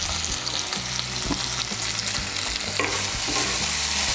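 Pointed gourd chorchori cooking in oil with split green chillies is stirred in a pan, with a steady sizzle and frying crackle under repeated scraping strokes of the spoon, close and fairly loud.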